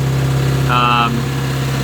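A boat engine runs steadily at about 2,000 RPM cruising speed, giving a constant low hum with a brief higher-pitched tone partway through.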